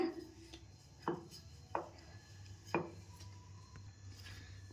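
A rolling pin works thin sesame holige dough on a board, giving soft scraping rolls and a few sharp taps at uneven intervals, close but quiet over a low steady kitchen hum.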